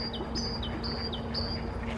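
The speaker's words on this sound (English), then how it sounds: "You can hear a bird that sounds like it's going." A bird sings a repeated bright, high two-part phrase, several calls in a steady rhythm over a low, constant hum, heard from beside a canal aboard an electric narrowboat.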